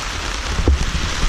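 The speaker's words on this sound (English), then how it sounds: "the rain's running off the back of the tarp, just as planned" Rain drums steadily on a camping tarp during a thunderstorm, a dense, close patter with one soft low thump in the middle.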